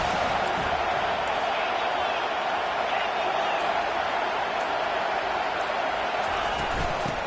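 A college football stadium crowd keeps up a dense, constant roar throughout, loud and even with no distinct breaks.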